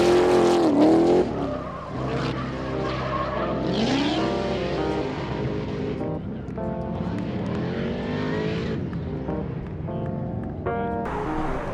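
Race cars drift during Formula Drift Pro 1 practice, with loud engine wails rising and falling and tire squeal over continuous track noise, sometimes under talking.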